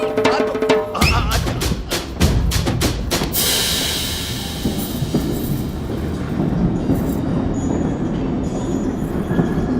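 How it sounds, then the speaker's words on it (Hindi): A train runs on rails, loud and close. Rapid rhythmic clatter comes first, then a steady rumbling roar with faint squeals as it continues past. "मेरी ट्रेन छूटी जा रही है"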